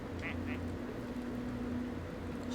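A duck quacks twice in quick succession in the Nu: Carnival video game, short nasal calls over a low steady hum of game background sound.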